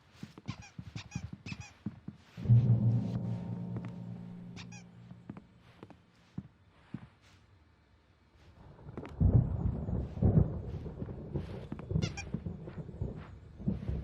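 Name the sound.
thunderstorm in the video game Alan Wake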